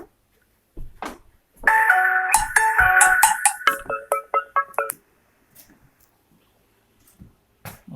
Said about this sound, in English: I always get a phone call when I'm trying to shoot a video.